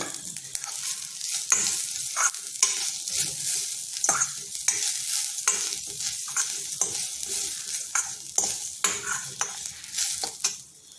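Grated coconut stirred and heated in a pan for a star fruit curry, a continuous dry sizzle with frequent scraping strokes of a spatula against the pan, close and steady with no talk.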